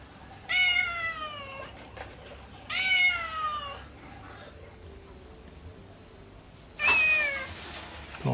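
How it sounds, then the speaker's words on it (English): A hungry cat meows close by in a home during the Bangkok floods. It gives three loud, drawn-out cries spaced a couple of seconds apart, with quiet room noise in between. "It's a hungry cat."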